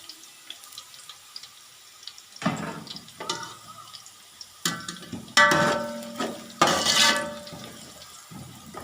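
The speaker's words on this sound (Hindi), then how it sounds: "मैंने इसके अंदर थोड़ा सा पानी शामिल किया था" Water splashes into a pan of frying potato rice masala in several short, separate pours, sizzling and gurgling against quieter kitchen background between bursts.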